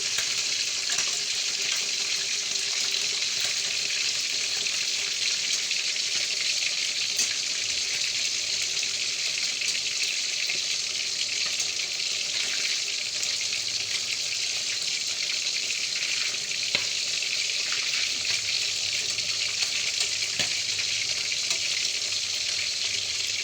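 Steady hiss and crackle of food frying in hot oil, continuous and even throughout with occasional small pops and no talk.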